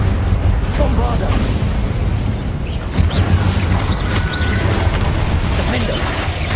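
Bombarda explosion spells go off in Hogwarts Legacy, heavy booms and bursts that stand out among other spell effects in a busy, loud game mix.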